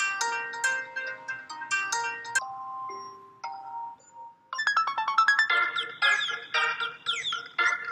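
A phone ringtone called Signal plays alone, with bright electronic tones stepping through a melody, then faster rising chimes in a quick repeating pattern, clear and close.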